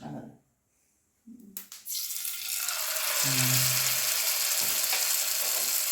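Hal kurki and kalmandi kurtali fish from coastal Karnataka drop into hot oil after a near-silent moment, bursting into a loud, steady sizzle that carries on without pause.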